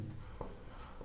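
A pen writing on paper during a Class 10 maths lesson on quadratic polynomials, a quiet continuous scratchy stroke about a second long, close and faint.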